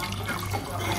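Gin and tonic being poured, a continuous splashing trickle of liquid running steadily over a low background hum.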